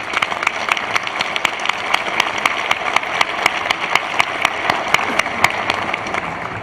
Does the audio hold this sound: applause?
yes